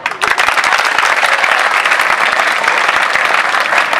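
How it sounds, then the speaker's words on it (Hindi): A crowd claps loudly during a talk about how police should be, a dense, continuous burst of applause that starts abruptly and holds steady with no speech over it. "ताली बजती है"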